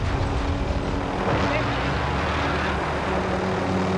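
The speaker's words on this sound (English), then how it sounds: "We got two choppers." Two military helicopters in an online multiplayer shooter game, their rotor and engine drone steady and loud throughout, with players chatting over it.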